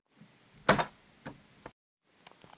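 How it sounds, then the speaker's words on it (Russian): A door being shut indoors: one loud thud followed by a few lighter knocks and rattles, then a short silence and faint scattered clicks. "Даже дверь закрыли."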